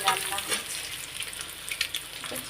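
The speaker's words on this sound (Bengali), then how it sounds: "ডিমটা ফ্রাই করে নিচ্ছি, আমাদের দুটো দুটো করে ডিম রান্না করছি।" Boiled eggs fry in a pan with a faint, thin, steady sizzle and light spattering, heard close but quiet and without talking.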